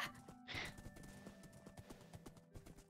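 Horse hooves clip-clopping in the Minecraft-based game WynnCraft, a steady series of light, rhythmic footfalls close by, with a brief whinny-like burst near the start and a faint tonal game hum underneath.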